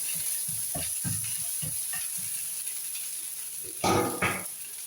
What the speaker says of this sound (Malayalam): കടുക് പൊട്ടിക്കഴിയുമ്പോൾ ഇതിലേക്ക് 3 അല്ലി വെളുത്തുള്ളി, ഒരു ചെറിയ കഷ്ണം ഇഞ്ചി ചതച്ചതും ചേർത്ത് ഇളക്കി കൊടുക്കണം